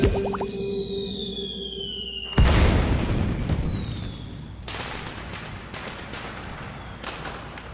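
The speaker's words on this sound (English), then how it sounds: "Those are some great fireworks." Fireworks from a firecracker potion in the video game Little Witch in the Woods: a sharp loud burst after whistling tones, followed by crackling pops and fading sparkle.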